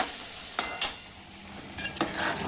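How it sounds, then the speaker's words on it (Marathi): Ingredients for palak paneer fry in a pan, a soft sizzle beneath a few clinks and scrapes of a stirring utensil against the pan. "पालक पनीरसाठी मी असंच लाल तळते छान मस्त गुलाबी कलर येईपर्यंत मी याला पण असं तळून"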